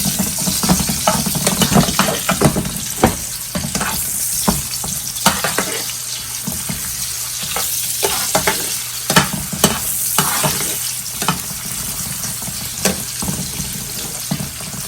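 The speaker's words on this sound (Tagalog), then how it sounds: "Lulutuin natin ng kunti yung sibuyas at bawang" Onions and garlic frying with beef for a Filipino beef steak, a continuous close sizzle punctuated by frequent sharp spatula clicks and scrapes against the pan, with no speech.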